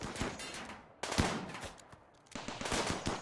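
Automated turrets in a colony-building game fire in three rapid bursts of gunfire, each a quick rattling volley separated by short pauses, fairly quiet and distant with no voices.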